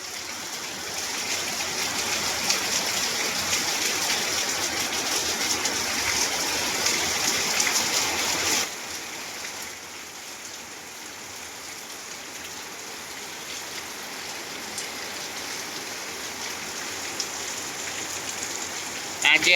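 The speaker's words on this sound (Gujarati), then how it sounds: "આખી રાતનો વરસાદ પડે છે" Heavy rain falls steadily through the night, a dense even patter that drops slightly in loudness partway through and then continues without talk.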